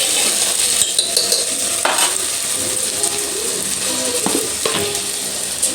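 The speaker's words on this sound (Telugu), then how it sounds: "చూడండి, మంచిగా ఇట్లా ఫ్రై కావాలి." Okra (bendakaya) for a curry fries steadily in a pan over low heat, a constant close sizzle broken by a few scrapes and clinks of a spoon stirring through the pieces, with no voices.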